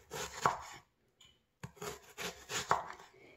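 A knife cuts through a nearly spoiled onion into big pieces, making close, quiet rubbing and chopping strokes that come in two short bursts with a brief pause between them, and no talking.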